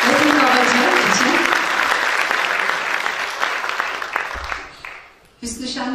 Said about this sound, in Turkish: Ben bir alkış alayım önce ona